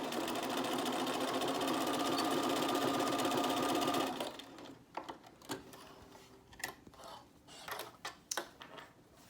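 For about four seconds a sewing machine runs fast and steady while back stitching the edge of a fabric mask, then it stops and only scattered clicks and light handling noises follow.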